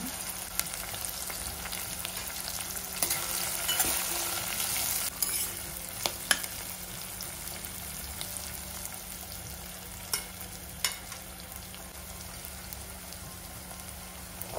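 Onion frying in a pan for sevai upma, with a steady close sizzle throughout and occasional sharp ticks and scrapes of stirring, no voices.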